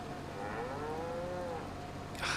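Cattle in Farming Simulator 25 on the Chipping Norton map give a single drawn-out moo, fairly close, over soft background ambience with a short hiss at the end.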